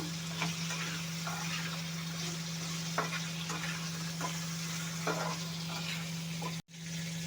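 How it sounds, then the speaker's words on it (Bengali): Sweet pumpkin pieces frying in a pan alongside already-fried potato: a continuous, close sizzle with scattered crackles and ticks over a low steady hum, cut by one brief drop-out near the end, with no talking. "মিষ্টি কুমড়া একটু ভাজা ভাজা করে নেব"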